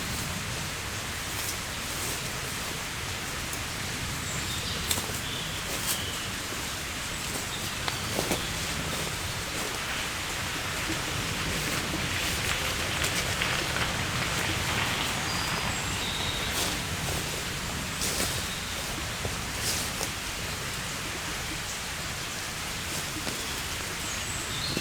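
Water flowing in a forest stream along a Croatian long-distance hiking trail, a constant close hiss and babble that fills the whole stretch evenly, with faint birdsong in places and no voices.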